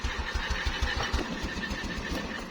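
A motorcycle engine cranking and catching after a breakdown, rapid rhythmic chugging pulses close by that settle into a rough, uneven idle.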